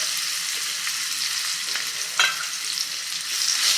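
Chopped guava pieces are stirred into fried chillies in a hot pan, a continuous bright sizzle with scraping stir strokes and one sharper clack midway, no voices.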